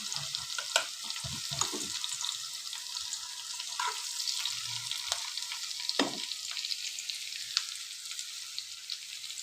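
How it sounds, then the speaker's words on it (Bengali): Kalmi shak (water spinach) sizzles and fries steadily in a pan, with occasional stirring scrapes and soft knocks over the continuous crackle and no voices. "এখন একটু হালকা করে করে ভেজে নিচ্ছি।"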